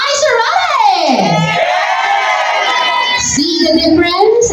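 A crowd of guests at an 18th birthday party shouts and cheers loudly on cue, a sustained burst of overlapping voices and whoops that dips briefly, then surges again with high yells.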